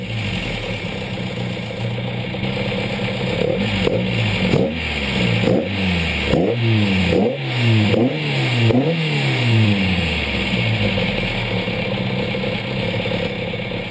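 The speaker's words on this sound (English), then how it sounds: "let's fire it up, because I hate these walk around videos where they don't start the car" A modified Ford Capri with a tuned 2.0 Pinto engine and original Bosch distributor idles and is revved repeatedly, loud close blips rising and falling in quick succession over a steady rumble.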